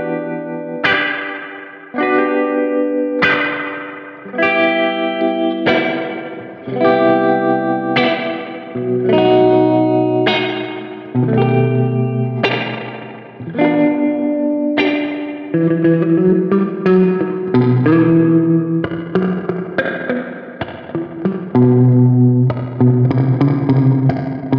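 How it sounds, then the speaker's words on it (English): Guitar played through a Zoom MS-50G+ multi-effects pedal on a tremolo spring reverb setting. Chords and single notes ring out loud and close with a pulsing wobble and a splashy reverb tail, and no one speaks. "So this is Tremolo Spring Reverb."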